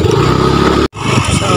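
A motorcycle engine runs close by in a crowded SM mall parking lot, a loud steady rumble that cuts out for a split second before resuming.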